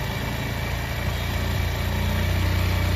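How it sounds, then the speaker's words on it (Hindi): A motorbike engine idles steadily up close as its air screw is loosened, a low continuous hum that swells slightly in loudness toward the end as the revs rise. "अब देखिए मैं इसे फुल से फिर से लूज कर रहा हूँ तो अब RPM बढ़ने लगी है।"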